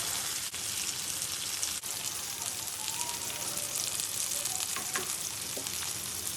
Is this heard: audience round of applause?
no